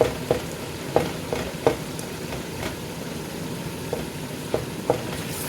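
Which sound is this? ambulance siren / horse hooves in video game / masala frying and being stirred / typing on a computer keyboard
masala frying and being stirred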